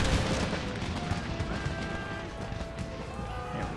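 Infantry musket volleys in the battle strategy game Empire: Total War during a siege, heard as dense, distant crackling gunfire and rumbling battle noise running continuously, with some faint speech mixed in.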